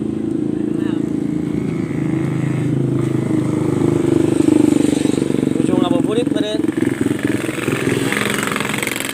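A motorcycle engine rumbles close by on a road near a bridge in Karawang, Indonesia, its drone rising and falling as it passes, while people talk over it.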